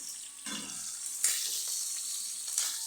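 Ingredients sautéing in oil in a pan for homemade luncheon meat, a moderate close sizzle broken by a few sharp stirring scrapes and clicks, with no talking.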